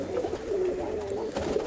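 Pigeons coo at a fighting pigeon breeder's loft, a close, low, warbling coo repeating in quick throaty pulses over a short stretch.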